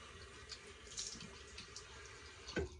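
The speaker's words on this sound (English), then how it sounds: "So I do 2 warm water rinses." Warm water runs from a sink tap for a post-shave rinse, a soft steady splashing with a few brief louder splashes, close and fairly quiet.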